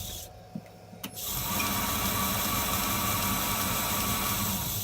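A belt grinder running a 36 grit zirconia belt against AEB-L steel, starting up after a quiet moment and settling into a steady, loud, broadband grinding roar that holds to the end.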